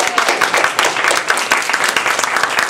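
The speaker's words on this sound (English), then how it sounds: "Let's give her a round of applause" Lively applause from a Toastmasters contest audience, a dense, close patter of many hands clapping steadily throughout.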